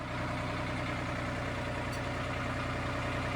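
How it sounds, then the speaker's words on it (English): A John Deere tractor engine idles close by, a steady, even rumble that holds without change from start to finish, with no voices over it. "This should be an instructional video of how to operate a John Deere tractor"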